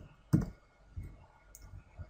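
Computer mouse clicking while working in SolidWorks CAD software: one crisp close click followed by softer, faint clicks and light desk noise in a quiet room.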